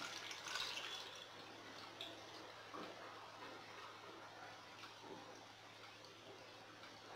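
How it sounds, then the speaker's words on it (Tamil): Water pours over washed taro roots in a cooking vessel, a soft, faint splashing trickle that is strongest at the start and settles into a quieter flow. "இப்போ இதில் வந்து நம்ம இது மூழ்கிற அளவுக்கு தண்ணி ஊற்றணும்"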